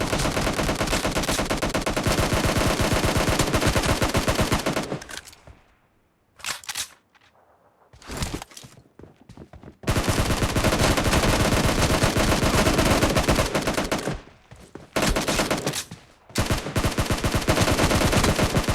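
Dense bursts of automatic gunfire in the video game PUBG Mobile, long sustained volleys broken by short silent gaps and a few brief separate bursts, loud and close.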